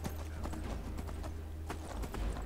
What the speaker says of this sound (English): We'll just ride to Windhelm this time.